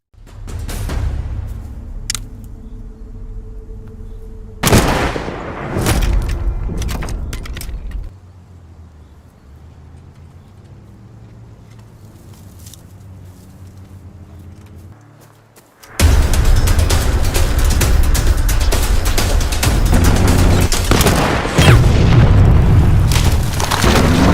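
Mortar shell explosions blow apart a bridge in a Soviet-German war film: heavy booming blasts burst out early, then a long, loud, rumbling roar of destruction fills the final stretch.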